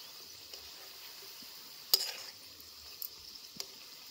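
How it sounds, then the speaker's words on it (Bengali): Flour-and-sugar pata pithe pastries fry in hot oil with a faint, steady sizzle, broken by a few soft clinks of a utensil turning them in the pan. "এগুলোকে উল্টে পাল্টে লাল লাল করে মচমচে করে একদম ভেজে নেব"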